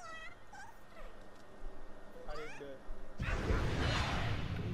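An angry cat yowls in the Nioh 2 video game, several drawn-out, rising meows over game sound before a loud burst of noise takes over near the end.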